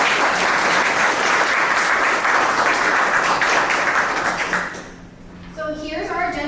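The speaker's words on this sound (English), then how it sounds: "So round of applause for all the teams." Audience at the 2022 UH Venture Competition final event applauding all the competition teams; loud, dense applause for about four and a half seconds, then dropping away as a voice begins speaking.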